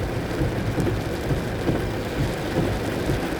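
Heavy rain pours in a steady, dense wash with no break, loud and close, with no voices over it.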